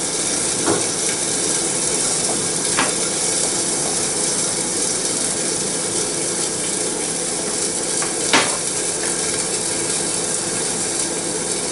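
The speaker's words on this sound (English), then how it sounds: "Still keep it stirring, don't let it stick, keep it stirring just like a risotto." Scrambled eggs are stirred steadily in a pan as a continuous soft scraping and sizzling hiss fills the space, broken by a few sharper clicks of the utensil, with no one talking.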